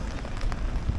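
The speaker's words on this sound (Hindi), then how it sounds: "ये हो गई भाई बारिश शुरू" Rain begins falling on a winter street in Amsterdam, a dense, close hiss of drops spattering on surfaces for a brief moment.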